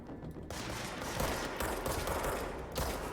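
Enemy gunfire in the action game Control rattles in a dense, steady barrage with overlapping shots, loud and continuous for a few seconds without any talk.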